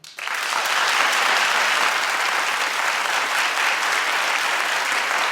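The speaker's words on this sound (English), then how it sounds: "clap if this is not a big deal to you." Studio audience at a daytime talk show breaking into sustained, dense applause that starts abruptly and holds steady and loud throughout, with no voices standing out.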